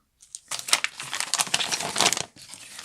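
A plastic bag holding drone frame hardware crinkles and rustles loudly close up as it is handled and opened, in bursts of crumpling with short pauses and no talking.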